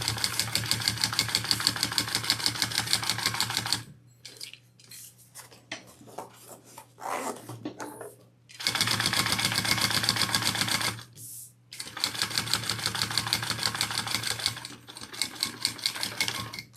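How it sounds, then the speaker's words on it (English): A sewing machine stitching a zipper onto a crossbody bag, running in long steady bursts with rapid even stitching, broken by quiet pauses for adjusting the fabric. "I'm going to sew that on at my seam allowance given in the pattern."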